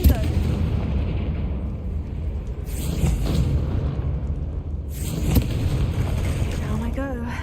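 A Confringo blasting spell goes off in Hogwarts Legacy, a heavy booming explosion with a deep rumbling tail, followed by a second burst a few seconds later amid game ambience.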